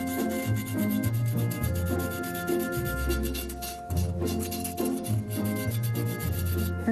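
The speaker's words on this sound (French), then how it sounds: "Le ponçage est terminé." Sanding a repaired vase to take off excess filler after moulding: continuous scratchy rubbing strokes, close and steady, with a rhythmic back-and-forth texture and no talking.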